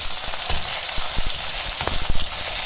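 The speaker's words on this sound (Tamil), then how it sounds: "ஒரு 200 கிராம் அளவுக்கு சின்ன வெங்காயத்தை போட்டு அதை நல்லா வதக்கிக்கலாம்" Shallots fry in sesame oil with a loud, close sizzle. Sharp stirring knocks and scrapes punctuate it, clustering toward the end.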